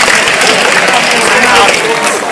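A loud, continuous round of applause from the audience at a hypnotism show, a dense wash of clapping and crowd noise filling the short stretch without letup.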